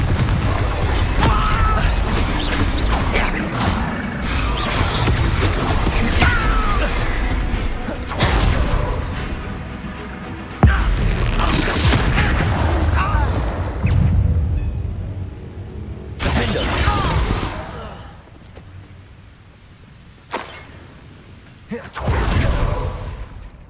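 Bombarda and Confringo spells fire off in Hogwarts Legacy, sending out booming, crashing blasts one after another, with rumbling debris and thuds that die away into brief quieter gaps before the next loud burst.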